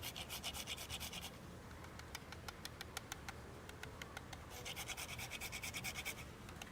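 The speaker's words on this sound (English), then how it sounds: "And then a little nutmeg. My spice grinder here." Nutmeg is ground in a small spice grinder over a pumpkin risotto, making a faint, steady gritty rasping with rapid clicking in two stretches, quiet and close with no voices.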